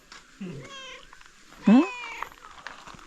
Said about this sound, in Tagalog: Ang daming pusa doon.